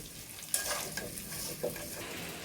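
Eggs frying in hot oil with turmeric give a quiet, steady sizzle, while a utensil stirs and scrapes in the pan with a couple of sharp clinks.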